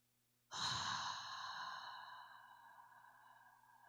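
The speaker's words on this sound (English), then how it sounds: "if we can take 3 deep breaths" A single deep breath drawn in and slowly let out as a long, soft, airy exhale, close and alone after a brief hush.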